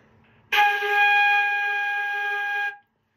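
A single clear flute note is held for about two seconds, played with the thumb and fingers one, two and three down in a beginner flute lesson, then cut off cleanly.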